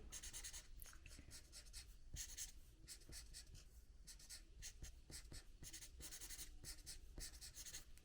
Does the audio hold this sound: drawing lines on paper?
yes